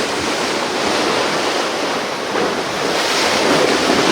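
Ocean waves crash and wash up on a shore in a continuous loud roar, with strong wind buffeting the microphone.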